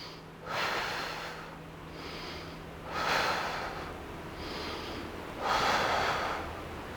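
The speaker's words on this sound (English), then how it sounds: "3 deep breaths" Three deep, slow breaths during a braced McGill curl-up exercise, each a long airy inhale-exhale through the nose, close and loud, evenly spaced with no talk.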